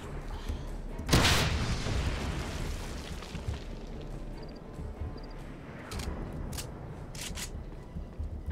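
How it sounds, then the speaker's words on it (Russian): A grenade goes off in the shooter game Wolfenstein (2009), one loud close boom that swells then rumbles away over several seconds into a low, noisy tail, with no voices. "Опять граната."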